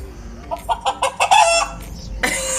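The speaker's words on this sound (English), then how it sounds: "It's actually a hen." A hen clucks in a quick series of short, close calls building into a longer, louder squawk, ending with a brief noisy burst.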